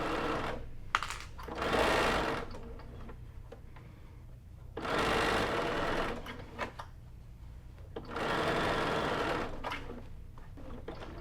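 Sewing machine stitching fabric for a simple fabric basket, running in three bursts of fast rattling stitches with short quiet pauses between them.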